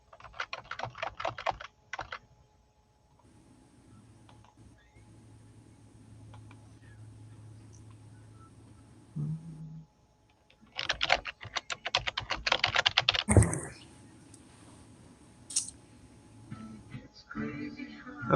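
Bursts of rapid clicking keystrokes on a computer keyboard, separated by quieter stretches with a low hum and some faint talk.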